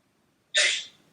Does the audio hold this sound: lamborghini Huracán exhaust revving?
no